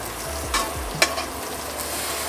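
Lamb cutlets with rosemary and butter fry in a pan with a steady close sizzle, while a utensil pushes the meat aside in a couple of scraping bursts and one sharp clink.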